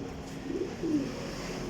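Pigeons cooing softly in a loft of fancy pigeons, two brief low coos standing out over a quiet ambient background.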